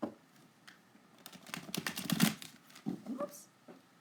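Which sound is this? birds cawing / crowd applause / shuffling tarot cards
shuffling tarot cards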